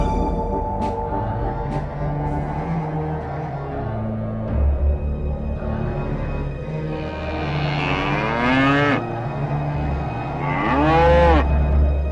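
A yellow cow in an animated religious story moos twice in long, drawn-out calls, the second near the end, over a steady bed of background music.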